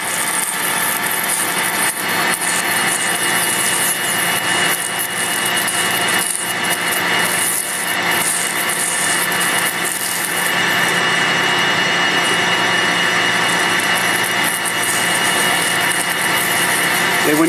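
A metal lathe parting off a workpiece at a slow feed rate with oil added, giving a steady, loud, continuous grinding whine with bright high-pitched scraping that holds throughout, with no voices.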